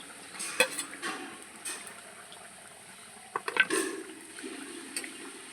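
Ground mustard paste being added and stirred into a cooking pan, with soft scraping and clinks of a spoon against the pan at intervals over a quiet simmer, close and fairly faint.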